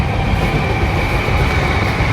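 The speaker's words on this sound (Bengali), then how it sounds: "ট্রেন হয়ে যাচ্ছে" A train rumbles past near a lakeside fishing spot, a steady, loud rolling clatter of railway wagons filling the whole moment without a break.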